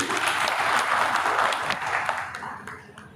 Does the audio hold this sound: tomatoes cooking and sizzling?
no